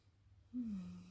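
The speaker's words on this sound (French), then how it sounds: "Et on vient prendre 3 grandes respirations au moins." A single deep breath taken during a guided meditation, a soft breathy inhale lasting about half a second, close and quiet with no talking.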